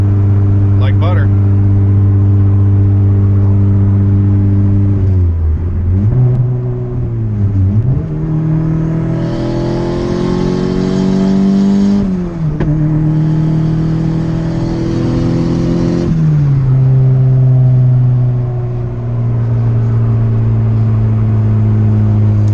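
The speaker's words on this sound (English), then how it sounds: "Cruising down the freeway like butter." A turbocharged Honda Civic cruises on a freeway with a loud, continuous engine drone heard from inside. The pitch dips and climbs with shifts and throttle changes, and a hiss rises during the harder pulls.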